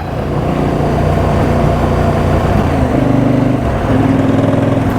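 A KTM 1290 Super Adventure S motorcycle on the move, its engine a loud, constant, throbbing rumble that carries on unbroken with a slight change in tone partway through.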